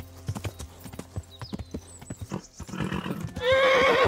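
Hooves of a horse in Kingdom Come: Deliverance clip-clop in a steady run of sharp, close thuds, then a loud whinny rings out at the end.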